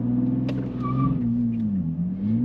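A 2023 Nissan Z with a nine-speed automatic accelerating hard in sport mode without launch control, its engine drone heard from inside the cabin, rising and dipping through shifts with a faint tire squeal.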